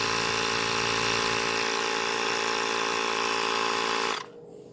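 A Ryobi tire inflator pumps up a flat tire on a 2013 Nissan Pathfinder, a loud steady motorized buzz running close by, then cutting off abruptly near the end.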